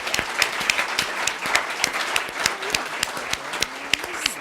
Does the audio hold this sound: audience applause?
yes